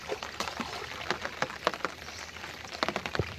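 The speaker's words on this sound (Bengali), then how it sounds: "বলতে বলতে কিছুক্ষণ বৃষ্টি হয়ে গেল" Outdoors by a Sundarbans river, rain patters on surfaces as scattered, irregular drops over a faint steady wash, fairly soft throughout.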